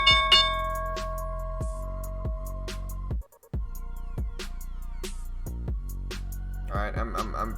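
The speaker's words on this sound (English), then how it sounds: "Alright guys, here's the bell." Stock market opening bell ringing during a live day-trading stream, a series of loud metallic strikes repeating steadily about every half second over several seconds, with a brief dropout midway and voices talking around it.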